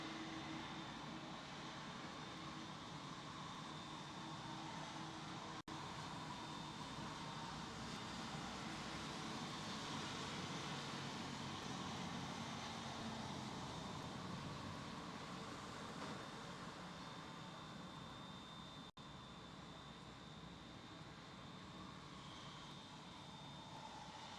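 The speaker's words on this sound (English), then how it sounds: "British Airways A380, right there it is." British Airways Airbus A380 at London Heathrow, a steady, moderately distant jet engine roar sustained throughout, with no talk.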